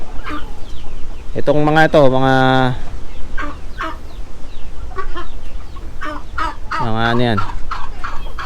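Brooding hens sitting on their eggs let out loud, close clucks and throaty, gobble-like calls in a couple of bursts, over steady background noise while someone speaks.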